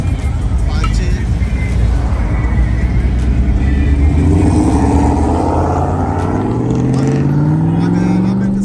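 A Datsun 510 at a Bay Area cruise night in San Mateo, its engine note rising and climbing steadily as it pulls past close by, with voices and crowd noise underneath throughout.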